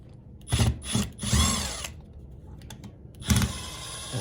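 A power drill or driver backs screws out of the mirror motor on a Mercedes-Benz W140 wing mirror, running in two or three short whirring bursts separated by pauses.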